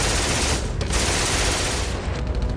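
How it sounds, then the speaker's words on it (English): Sustained machine gun fire in a wartime audio drama, a dense, loud continuous burst of rapid shots filling the whole stretch with no voices over it. "Strayer, get on the MG."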